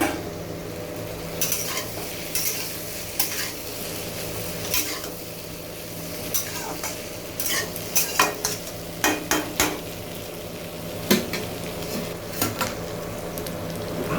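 Fried pointed gourd pieces tipped into a frying pan of vegetables and stirred, giving a steady low sizzle with repeated sharp scrapes and clinks of a spatula against the pan, close and fairly quiet.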